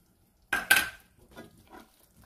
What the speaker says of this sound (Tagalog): Haluin lang po natin hanggang sa matunaw ang cream cheese.